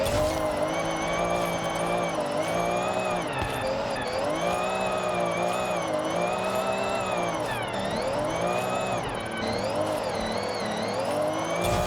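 A tuned drift car in Forza Horizon 6 held in a long slide, engine revving and warbling continuously with rising and falling pitch sweeps and brief throttle lifts, loud and steady throughout.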